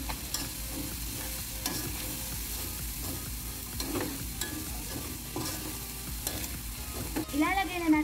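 Vegetables and chicken stir-fry for pancit guisado in a hot pan, giving a steady close sizzle with the scrape of a stirring utensil and a louder clatter near the end.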